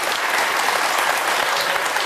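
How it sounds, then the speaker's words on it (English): A studio audience on a daytime talk show breaks into dense, sustained applause, loud and even throughout with no voices above it. "What's the crowd clapping for?"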